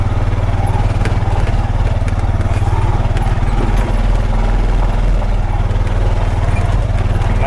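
A four-wheel drive vehicle in manual mode climbs in gear over rough off-road ground, its engine a steady loud low drone with rhythmic knocking and rattling running continuously throughout.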